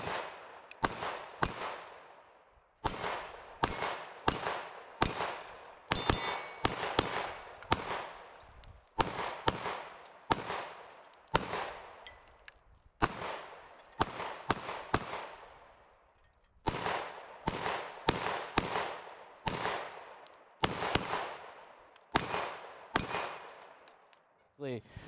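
A Century Arms AP5-P MP5 clone pistol fires 124-grain rounds in quick strings of sharp, loud shots with brief pauses between groups, each crack trailing off in a short echo.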